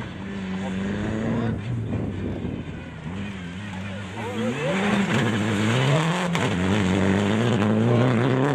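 A Citroën DS3 R3T rally car at the Rallye de Hannut revs and drifts, engine pitch rising and falling through the slide, loud and continuous with faint crowd voices underneath.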